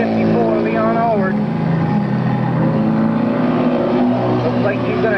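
Stock cars roar down the backstretch on the final lap of a 1998 oval race, a loud continuous engine drone with shifting pitch, heard under an announcer's steady commentary.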